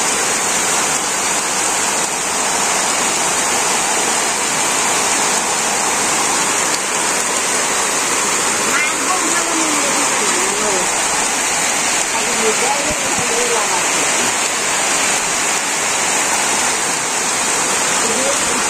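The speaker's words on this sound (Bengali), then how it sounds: "ভালো রকম বৃষ্টি নামছে" Heavy rain pours steadily over a Bangladeshi village, a dense, loud, unbroken hiss that stays even throughout, with faint voices and a few bird calls buried beneath.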